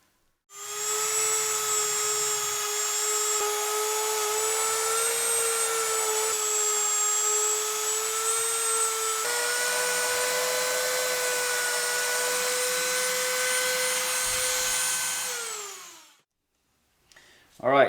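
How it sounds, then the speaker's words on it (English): A rotary polishing tool whines steadily on Glock pistol frame and slide parts, a loud sustained high-pitched motor tone with slight pitch shifts, running close for about fifteen seconds before spinning down. "Let's get to polishing and show you what that looks like."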